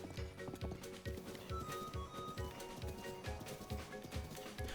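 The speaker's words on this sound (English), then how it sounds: "My horse just keeps going sideways." Horse hooves gallop in The Legend of Zelda: Breath of the Wild, a steady rhythmic clip-clop of quick beats over game music, close and moderately quiet.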